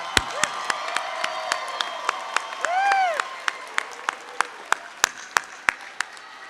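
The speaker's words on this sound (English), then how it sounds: "how about one more round of applause for those graduates?" Sparse, sharp claps ring out one by one in a slow, steady rhythm at a university commencement ceremony, with a single rising and falling whoop of a cheer partway through.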